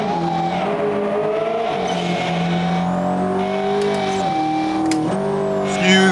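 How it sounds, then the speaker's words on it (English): Two loud supercar engines roar steadily in BeamNG.Drive on a snowy map, their droning, shifting pitches overlapping without a break, with tire squeal and revving swells rising near the end. "I can't hear shit over these two loud-ass cars"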